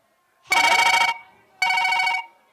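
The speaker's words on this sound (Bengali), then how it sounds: "মা ফোনটা এসেছে ফোনটা ধরো" A telephone rings twice, each ring a loud, bright electronic trill lasting about half a second, separated by a short silence.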